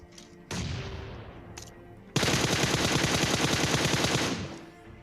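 Rapid automatic gunfire in a battle royale video game: a short burst, then a sustained fast volley of close, sharp shots lasting about two seconds before it fades out, with no voices.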